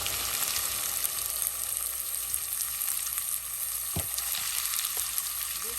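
Ground coriander, turmeric, chili and cumin sautéing in hot oil for a catfish curry with bean seeds and tomato: a dense, steady hiss of frying fills the whole stretch, with one or two sharp scrapes of a spoon in the pan.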